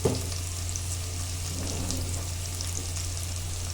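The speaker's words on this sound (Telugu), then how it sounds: "కొంచెం సాల్ట్ వేసి ఉల్లిపాయలు వేయించినట్లయితే మనకి ఉల్లిపాయలు అయితే త్వరగా వేయిపోతాయి" Onions frying with salt in a pan give off a steady, close hiss and crackle that runs without a break from start to end, with a low hum underneath and no talking.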